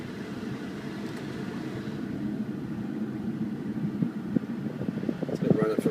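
The heater blower fan in a 2006 Ford F250 King Ranch diesel truck gives a steady rushing whoosh that builds slightly, while people talk over it inside the cab.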